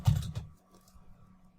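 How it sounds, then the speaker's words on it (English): Computer keyboard keys clatter in a short, close burst of typing that fades quickly into a faint hum. "careful because of the typing"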